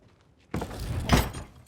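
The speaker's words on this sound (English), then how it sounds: "Shut the door." A door is shut in a Viking film, with a sudden heavy thud of wood after a near-silent start, followed by a short rumbling, creaking scrape that dies away.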